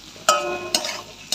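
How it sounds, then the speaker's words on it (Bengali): Spicy shrimp curry is sautéed in a pan, with a light sizzle running under three crisp spoon scrapes against the metal at irregular intervals. "আর এই চিংড়ির ঝালটা কষাচ্ছি"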